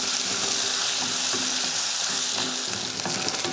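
Small shallots and garlic cloves sauté in hot oil in a pan, a steady close sizzle with soft stirring scrapes running throughout, no voices.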